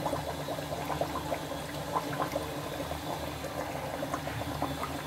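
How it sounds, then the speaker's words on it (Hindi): Mathri dough pieces fry in hot oil with a continuous, even bubbling and crackling, moderately close and steady, with no voices. "अब मैं इनको फ्राई कर लूंगी"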